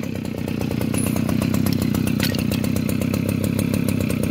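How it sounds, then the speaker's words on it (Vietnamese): A Shibaura lawn mower engine runs steadily and close by, a loud, even buzzing drone with a rapid pulsing beat that holds without pause and has no talk over it. "Anh nghe tiếng máy không?"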